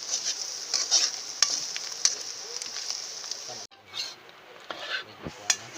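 Kandinga sizzles in hot oil while being stirred in a pan. A bright, crackling hiss with scattered spatula clicks is cut by a brief drop, then continues more faintly with metallic clinks.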